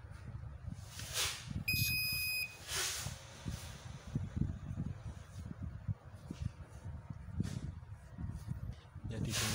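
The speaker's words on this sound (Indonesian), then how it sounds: "Untuk yang pertama kali langsung saja kita nyalakan inverternya." A 12V DC pure sine wave power inverter kit, 500W max with 220V output, switches on with a brief high electronic beep near the start, followed by low hum and handling noise under quiet talk.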